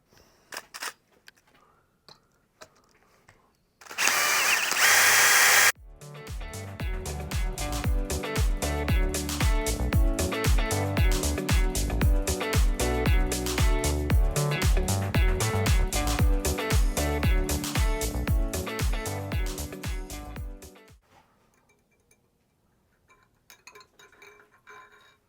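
A power drill with an eighth-inch bit bores into a metal jack plate, a loud sustained whining grind with dense rapid chatter lasting about fifteen seconds, preceded by a brief burst of harsh noise and followed by quiet.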